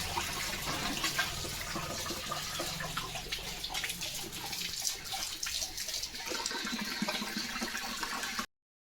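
A German Shepherd playing in water outdoors, a continuous rushing splash and gush of water that runs loud and steady for about eight seconds before cutting off abruptly.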